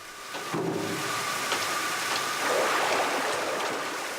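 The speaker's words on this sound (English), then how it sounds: "They loosen the gold with a high-pressure water jet." A high-pressure water jet blasts mud at an African gold mine, making a loud, steady rushing hiss that continues throughout with a low mechanical hum underneath.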